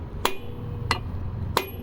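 A hammer strikes a press-fit part on a 1995 Polaris Magnum stator: three sharp metallic blows, evenly spaced about two-thirds of a second apart, each ringing briefly, close to the listener and with no voices over them.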